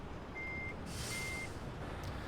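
Volvo VNL 670 truck reversing in American Truck Simulator, two steady electronic backup beeps over a low engine idle and a hissing air brake release.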